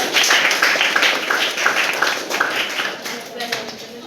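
Pupils at a government high school quiz programme clap for the winning teams, a continuous patter of many hands under chatter and talking that gradually eases off.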